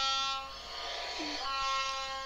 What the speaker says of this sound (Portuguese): Acompanhamos o trem por 3 quilômetros.